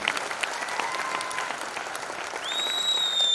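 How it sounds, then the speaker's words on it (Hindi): An audience at a business seminar breaks into steady applause, dense clapping throughout, with a faint whistle-like tone rising near the end. "आप सर के लिए एक बार जोरदार तालियां हो जाए।"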